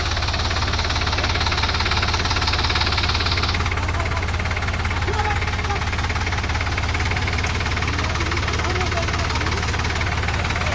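Sonalika tractor running on a flooded village road, a steady loud rumbling diesel drone with knocking pulses that continues unbroken for the whole stretch, with voices talking over it.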